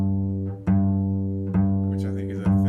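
Bass guitar string plucked with only the fingertip, giving a thinner tone; three separate plucks ring out close and clear, each sustaining a steady low note with no talking.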